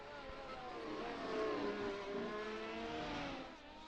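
Formula One car engines in the F1 Challenge racing simulator at Hockenheim, a steady high-pitched whine with shifting tones as several cars scream past, continuous and fairly faint without any voices.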